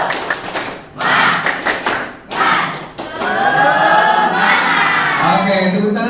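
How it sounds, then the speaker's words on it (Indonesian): Classroom pupils perform a rhythmic clapping chant, loud bursts of synchronized claps and thumps alternating with shouted group chanting, many young voices close by filling the room. "kita tepuk semangat terlebih dahulu"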